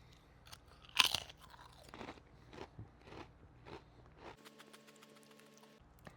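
Close crisp crunches of someone biting and chewing a creamy dill pickle flavored potato chip, a sharp first bite followed by a series of softer chews, quiet and without talk.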